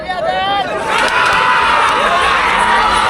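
A dense, noisy crowd at a village bullock cart event, with loud continuous cheering, shouting and overlapping voices filling the whole stretch close by.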